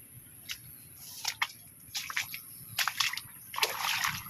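Water splashes and sloshes in a flooded farm field planted with okra, in a series of irregular close splashes that build toward the end, with no talking.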